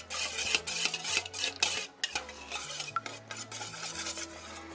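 Eggs are whisked for Korean steamed eggs, with a utensil clattering rapidly and rhythmically against a bowl, close and clear, with a short pause midway and some music underneath.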